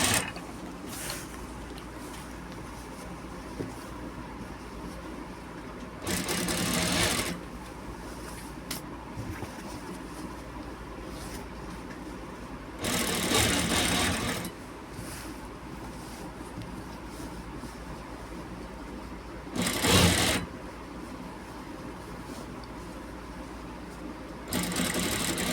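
Sewing machine stitching a shirt sleeve in three loud bursts of rapid, steady whirring, separated by longer stretches of quiet room hum.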